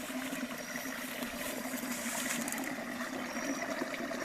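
A water stream at a rural homestead flowing steadily, a dense continuous rush and gurgle close by with no pauses and no voices.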